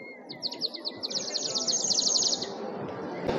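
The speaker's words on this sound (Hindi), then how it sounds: "चिड़िया चहचहा रही," A water-filled bird whistle toy at a crowded craft fair warbles in bright, rapid trilling chirps that swell for a couple of seconds over a steady murmur of crowd noise.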